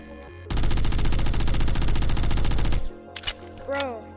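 Submachine gun in the game Hax firing one long, loud, rapid automatic burst of about two seconds, followed by a few scattered clicks and effects.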